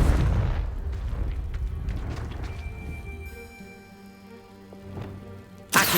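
Confringo blasting spell exploding in the game Hogwarts Legacy, a heavy boom that rumbles and decays over a few seconds into lingering magical shimmer, followed by a sharp new burst at the end.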